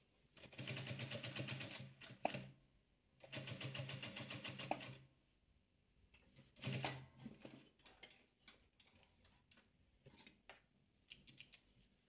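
A sewing machine stitches the corners of a soft 3D fabric ball, running in several short, fast mechanical bursts separated by pauses, with faint handling sounds in between.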